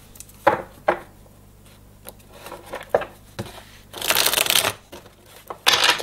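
A deck of playing cards is handled and shuffled, with scattered soft riffles and taps followed by a louder sustained riffle, then a final burst, close and in a quiet room.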